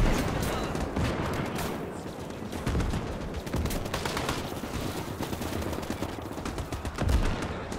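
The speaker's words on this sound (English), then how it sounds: "I love the sound of that 50 cal" Rapid bursts of heavy .50 caliber machine gun fire rattle continuously amid other distant gunfire and explosions in a chaotic battle soundscape in the video game Gates of Hell.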